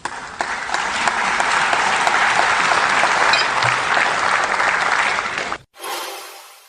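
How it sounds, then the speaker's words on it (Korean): Steady, dense applause from an audience in parliament during a presidential speech, loud and sustained for several seconds before cutting off abruptly, then resuming briefly. "이쯤에서 박수가 터져나왔던 걸로 기억하는데"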